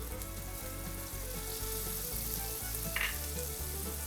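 Chicken fries in a pan with about two tablespoons of tikka masala, giving a steady, close sizzle with faint stirring clicks throughout.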